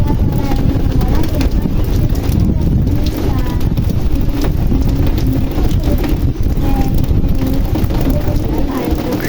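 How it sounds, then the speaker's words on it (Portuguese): Light drizzle falls at Sítio Riacho Verde in Verdejante, Pernambuco, in the sertão, a dense, constant hiss of rain and wind buffeting the microphone, loud and unbroken throughout. "Passando uma chuvinha fina aqui agora"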